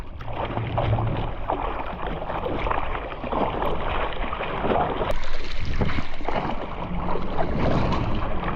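A paddle board glides through water under steady paddling, with continuous splashing and rushing water mixed with outdoor wind noise, close and fairly loud throughout.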